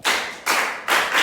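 A classroom of students clapping for a classmate in three quick synchronized bursts, each a loud unified clap of many hands with a short fade, close and alone.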